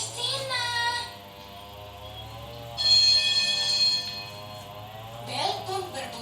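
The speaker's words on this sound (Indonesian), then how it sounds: "Bel pun berbunyi" A school bell rings in repeated bursts of bright, sustained metallic tones, loud and close, with short gaps between the rings.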